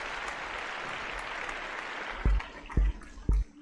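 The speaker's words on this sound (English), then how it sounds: "All right, a big round of applause for Kelly." A round of applause on a live-streamed podcast fills the clip as a steady wash of clapping. A few heavy low thumps land near the end.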